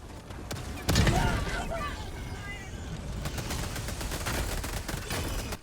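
Heavy rapid gunfire from a Pummeler weapon in a video game firefight, a dense stream of shots opening with a loud blast, then continuous rattling bursts under a voice.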